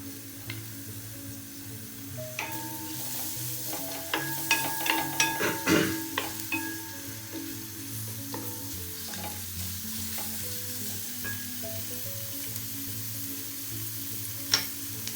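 Sliced onions frying over a raised flame for chicken mandhi, a continuous close sizzle with a burst of spatula scraping and stirring clatter in the middle and a faint hum underneath.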